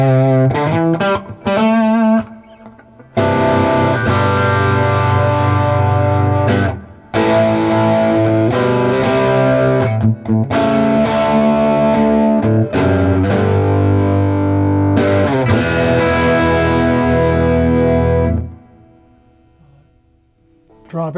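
A Harley Benton DC Jr electric guitar fitted with a Lollar pickup plays heavily distorted chords and riffs, loud and close, with a few short pauses between phrases before fading out into a quiet tail.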